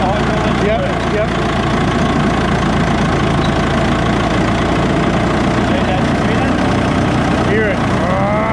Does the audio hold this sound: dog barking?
no